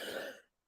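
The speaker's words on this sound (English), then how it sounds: "Here come my cough again." A single short, raspy cough or throat-clearing sounds close by and cuts off into silence.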